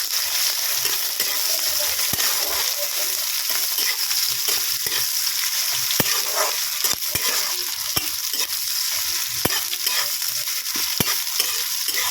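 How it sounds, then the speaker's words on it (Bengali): Long-sliced onions fry in a hot pan for Hakka noodles, a loud steady sizzle close by, punctuated by repeated sharp scrapes and knocks of a spatula stirring, with no one speaking. "আমি এখন এখানে দিয়ে দেবো পেঁয়াজ, লম্বা লম্বা কেটে রাখা পেঁয়াজ।"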